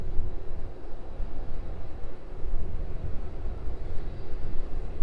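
A Boeing 747 cargo jet taxiing at East Midlands Airport in the evening gives a steady, broad, low engine rumble heard from a distance without pause.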